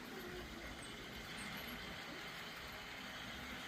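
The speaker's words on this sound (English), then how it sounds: "So that bus is coming around." A model bus circulating on an HO scale railroad layout gives a steady, faint motor hum with a soft whirring hiss that holds level throughout, with no voices over it.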